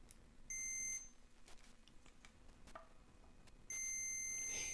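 Multimeter continuity beeper testing the shielding on a Squier Stratocaster, two sustained electronic tones about a second long each with a quiet gap between, close and clear.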